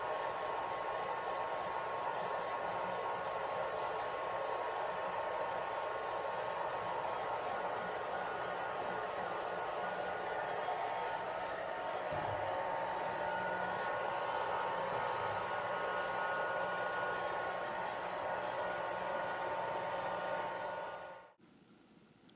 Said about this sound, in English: I blew dry it with the blow dryer at its lowest setting for about an hour.